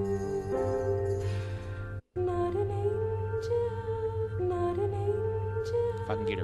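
Chopped soul-style music sample for a hip-hop beat, tonal harmonic phrases cut into segments with an abrupt silent gap near the middle, loud and alone.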